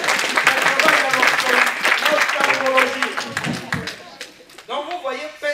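Church congregation applauding during a sermon, a dense burst of clapping and cheering that fades after a few seconds as voices come through.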